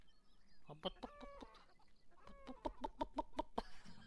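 Chickens cluck in the video game Beyond Eyes, a run of short, sharp clucks in two bursts with a brief pause between, close and fairly quiet.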